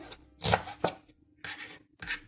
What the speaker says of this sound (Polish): Teraz kroimy sobie pora.